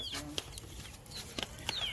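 Live chickens cluck and squawk nearby as they are fed, with short sharp calls and rising squeaks scattered over a low farmyard murmur.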